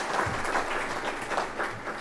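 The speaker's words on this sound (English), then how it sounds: "Yes, big round of applause." Applause from the audience at a Boy Scouts award dinner in a performing arts center, a broad wash of clapping that rises and falls over two seconds.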